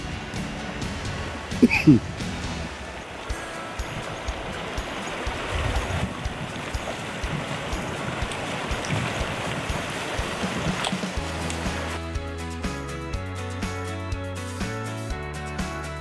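Creek water at Rock Creek in northern Georgia rushes steadily as a broad, continuous wash with a brief louder splash early on. Tonal music comes in over it toward the end.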